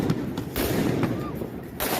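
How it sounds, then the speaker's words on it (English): Gunshots fired at police ring out as sharp, echoing pops in an outdoor street scene in Long Beach, California, heard through steady crowd noise and voices talking. "Shit, they shooting guns at him. Real guns."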